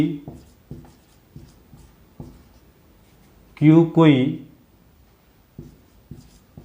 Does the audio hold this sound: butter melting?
no